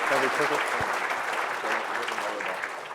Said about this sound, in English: So give him a big round of applause, guys.